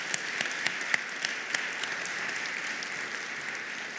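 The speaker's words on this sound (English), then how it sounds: "So one more round of applause for our legislative leaders." A conference audience at an advocacy day applauds its legislative leaders, a steady wash of clapping with a few sharper claps standing out, sustained for several seconds without speech.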